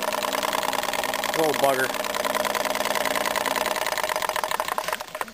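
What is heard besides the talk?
1915 motor running a rare P.T.C. power tire pump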